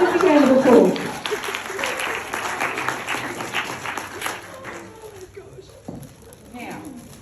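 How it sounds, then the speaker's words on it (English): An audience applauds at a book launch: a dense, loud burst of clapping that thins and fades over several seconds, with a voice speaking through the tail end. "Give me a big round of applause."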